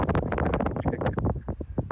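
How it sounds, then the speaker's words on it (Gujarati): Gusty wind buffeting the microphone in rapid low thumps and rumbles, loud and close, with no clear voices. "ઠંડો ઠંડો પવન આવે."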